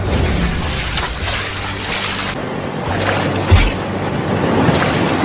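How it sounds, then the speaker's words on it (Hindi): Heavy rain and rushing floodwater in a cartoon, a loud continuous wash of water and wind-like roar with low rumbling surges, no talking over it. "अभी भी बारिश बहुत तेज हो रही है"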